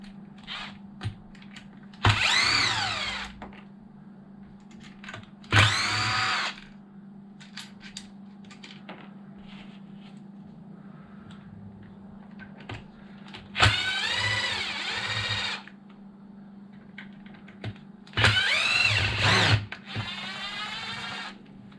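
A cordless power drill zips out four bolts on a Mojave off-road speed build, working in several short bursts of high-pitched whirring separated by quiet pauses over a low background hum.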